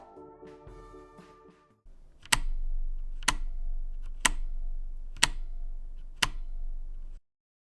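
Keys clack on a Gigabyte Force K85 mechanical RGB gaming keyboard, five sharp, evenly spaced strikes about a second apart over a steady hum, after a quieter muddled stretch at the start.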